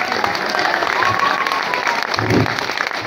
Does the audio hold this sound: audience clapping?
yes